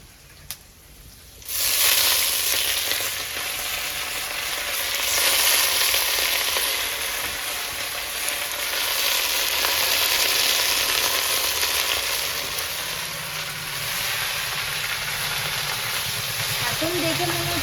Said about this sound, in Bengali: এবার এই যে ধুয়ে রাখা শাকগুলো দিয়ে দেবো।